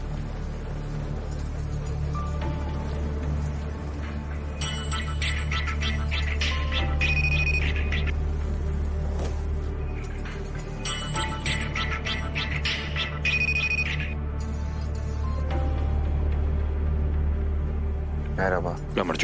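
A telephone rings repeatedly in a tense TV drama scene as a call is placed, bursts of electronic ringing standing out over a low background rumble and music.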